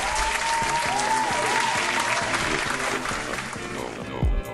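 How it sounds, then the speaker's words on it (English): Big round of applause from a crowd, loud and continuous with cheering tones mixed in, tapering slightly near the end with a brief thump. "y'all give my man a big round of applause for that one"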